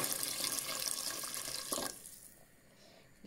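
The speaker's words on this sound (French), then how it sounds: "On rajoute de l'eau" Tap water pours loudly into a soup pot for harira with chickpeas for nearly two seconds, then cuts off, leaving a quieter trickle and faint kitchen room tone.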